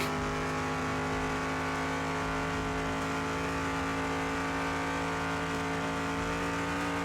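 A 1956 Ford F-100 pickup drives in the Car Mechanic Simulator video game, its engine holding a steady, loud droning hum throughout with no talking.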